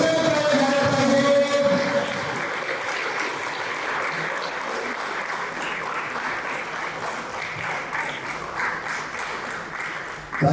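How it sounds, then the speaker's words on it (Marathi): An audience at a birthday celebration claps hard and steadily for about ten seconds, a dense, sustained applause that fades only slightly toward the end. "जोरदार टाळ्या झाल्या पाहिजे."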